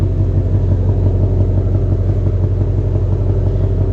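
A 2020 Ford Shelby GT500 with Kooks headers idles loudly and close, its deep engine and exhaust rumble holding a steady, throbbing burble throughout without revving.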